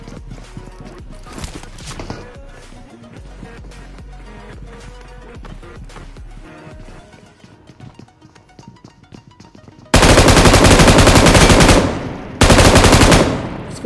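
Gunfire during a fight in the video game PUBG Mobile: scattered shots and footsteps, then two long, loud bursts of rapid automatic fire near the end.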